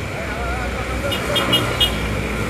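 A Volvo B11R bus at a busy morning bus terminal gives a steady engine rumble amid traffic noise, with a few short horn toots in the middle; faint voices mix in.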